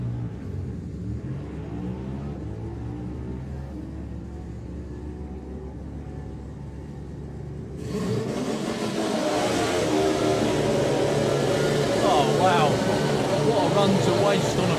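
A Ducati motorcycle on a solo drag racing run at Santa Pod Raceway, with a steady engine drone that turns to louder revving and acceleration partway through, heard beneath continuous commentary.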